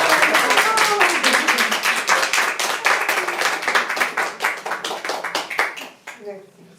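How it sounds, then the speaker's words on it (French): Applause from a small group for a participant named Diane at a spiritual hypnosis training certificate ceremony in Paris, a dense run of close hand claps lasting several seconds before thinning out and fading, with voices mixed in. "on applaudit Diane pour ça"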